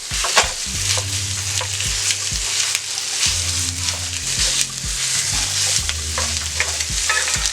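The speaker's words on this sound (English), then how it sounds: "start by browning off my sausage in the cast iron skillet" Sausage browns in a cast iron skillet with a dense, continuous sizzle and sputter, up close, over a low, steady rhythmic hum, with occasional spatula scrapes and no talking.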